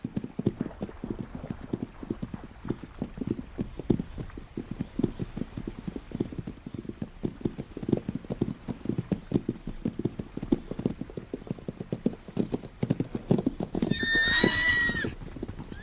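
Horses in the wild, a stallion pursuing a mare: steady clip-clop of hooves runs throughout, with a clear whinnying neigh rising near the end.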